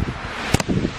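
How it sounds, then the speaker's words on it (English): Brief gusty wind outdoors in Maine, a soft broadband rush with a couple of sharper buffets against the microphone, heard alone for about a second. "That wind."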